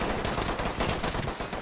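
Dense automatic gunfire in the tactical shooter game Ready or Not fills the whole moment, loud and close, with rapid continuous shots and no voices.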